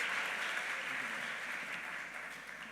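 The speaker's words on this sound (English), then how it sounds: "I'm sure we can do that with a round of applause" Steady applause from an audience at a conference opening ceremony fills the whole stretch, many hands clapping together at an even level before tapering slightly at the end.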